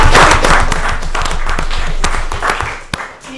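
Applause from a small audience at a town selectboard meeting, a steady patter of many hands that thins toward the end, leaving a few scattered late claps.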